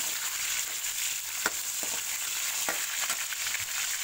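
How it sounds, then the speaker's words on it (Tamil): A single tomato cut into quarters fries with curry leaves in a pan for a mutton bone curry. The sizzle is steady and close, with a few sharp clicks and stirring scrapes and no talk. "ஒரே தக்காளியை நாலாக கட் பண்ணி போடுறோம்."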